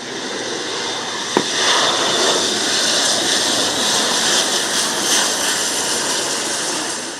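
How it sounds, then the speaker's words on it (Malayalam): A Royal Air Force Airbus A400M Atlas military transport lands at Thiruvananthapuram International Airport, a loud, sustained broadband engine roar with a single sharp click early on. "ബ്രിട്ടന്റെ വ്യോമസേനാ വിമാനം എയർബസ് A400M അറ്റ്ലസ് പകൽ 12:45 തിരുവനന്തപുരം അന്താരാഷ്ട്ര വിമാനത്താവളത്തിൽ പറന്നിറങ്ങി"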